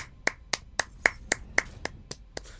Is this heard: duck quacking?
no